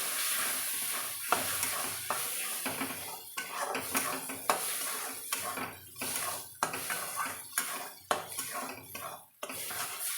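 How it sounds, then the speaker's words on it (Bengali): An egg frying in a pan with rice-frying preparation, sizzling steadily while a utensil scrapes and stirs it in repeated strokes, with clanking metal-on-pan contacts throughout; no talk. "এবার এটাকে ভাজা ভাজা করতে হবে"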